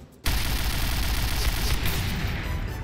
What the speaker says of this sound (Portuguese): Eita, uma bomba aqui perto.